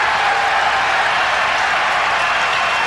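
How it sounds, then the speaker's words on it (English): A basketball arena crowd reacting to a called foul, a steady broad roar of voices and clapping filling the whole stretch without pause. "reaction from the crowd on that foul that was called on Cartwright"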